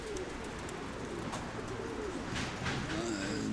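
Pigeons coo softly in a low, repeated warble beneath a steady outdoor background, with a few faint higher chirps from other birds near the end.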